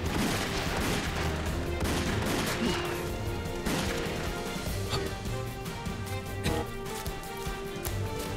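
Dense gunfire erupts in a chaotic burst of overlapping shots and crashes, loud and continuous, with no clear voices over it.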